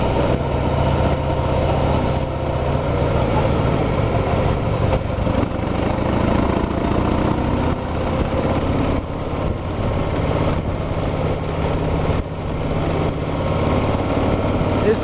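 A 2016 Harley-Davidson Heritage motorcycle engine rumbles steadily while riding on the road, giving a loud, continuous low drone mixed with wind noise and no clear pauses.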